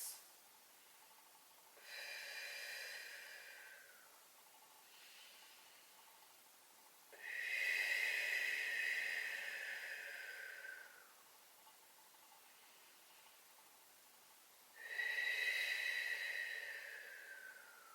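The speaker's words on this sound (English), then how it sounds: "Really breathe in deep, try to get deeper into the stretch whenever possible." Slow, deep breathing during a squat mobility stretch, heard as three long, airy, hissing breaths spread over several seconds. The breaths are faint and close, with quiet pauses between them.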